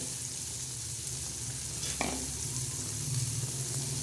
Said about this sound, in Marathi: हे बघा कसा मसाला गदा गदा गदा गदा शिजतो हे